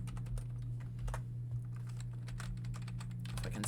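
Rapid, uneven clicks of a computer keyboard as code is typed, close and fairly loud, with short bursts of keystrokes and brief pauses, no voices.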